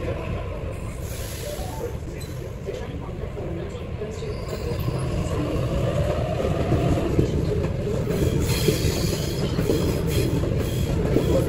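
A Sydney passenger train rumbles steadily along the rails, its rolling noise growing a little louder midway, with faint high squealing above the low drone.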